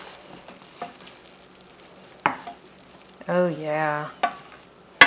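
Pasta being stirred in a hot pan with a wooden spoon for a vegan bagna cauda, soft sizzling with several scraping knocks of the spoon, close by, and a brief spoken remark and a hummed voice in the middle.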